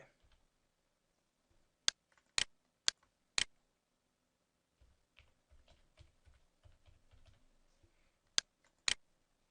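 Sharp clicks of typing on a computer keyboard while logging back into an account, a few isolated strikes, a cluster of softer taps, then two more clicks at the end, close and fairly quiet in a still room.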